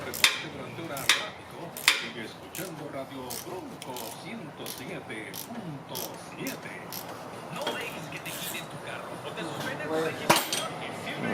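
Metallic clinks and rattles ring out as the front skid plate of a 2017 Lexus GX460 comes off, a few sharp clanks early and late over a low background rustle of handling.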